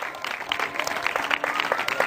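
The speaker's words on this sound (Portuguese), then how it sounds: "Palmas para o Senhor Jesus" A church congregation claps together in a dense, steady burst of applause, moderately loud and heard from within the room.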